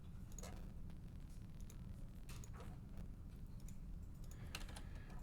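A computer keyboard clicks with quick, irregular keystrokes while a dimension is typed into a drafting program, faint and close over a low steady hum, with no talking.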